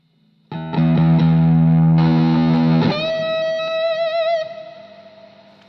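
Electric guitar played through a heavy distortion effect, with thick sustained chords ringing loud and saturated, then shifting to a bright, wavering held note that slowly fades.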